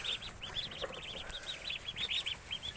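A pet duckling peeps in a steady run of short, high, rising calls, close and fairly clear, repeating with no pauses against a faint background hiss.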